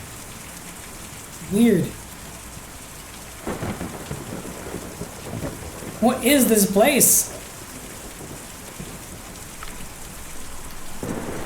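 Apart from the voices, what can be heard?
rain and thunder in video game Kentucky Route Zero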